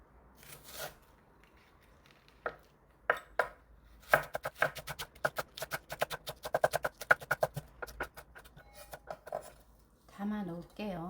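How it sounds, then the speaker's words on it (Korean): A knife slicing a medium green onion diagonally on a cutting board for kkakdugi, quick irregular bursts of crisp chopping strikes that speed into a dense run, with a voice talking at the end. "대파 중간 크기 하나예요. 어슷어슷 썰어줄게요."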